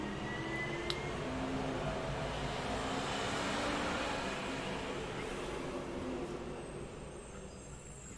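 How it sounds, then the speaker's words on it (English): A loud garbage truck rumbles past outside, a steady broadband roar of engine and road noise holding for several seconds before easing off slightly at the end, with no talking. "Really loud garbage truck."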